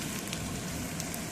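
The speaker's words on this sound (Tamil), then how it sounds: "வெங்காயம் போட்டு கருவேப்பிலை வந்து சிம்மிலே வச்சு நல்லா கலரிக்கோங்க" Onions and curry leaves sautéing in oil on a low flame for a Tamil mango ginger chutney, giving a steady, close, continuous sizzle with a few light stirring scrapes and no talk.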